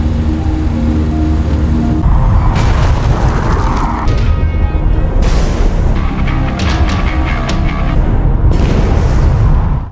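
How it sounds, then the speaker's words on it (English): A bomb setting off a methane gas explosion in a sewer, a continuous loud, dense rumbling roar with bursts and crackling debris layered throughout, sustained for the full length without a pause. "The bomb triggered a methane gas explosion and countless zombies popped out of the sewer"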